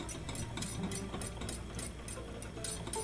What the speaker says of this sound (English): keeping whisking as we go along until it makes an emulsion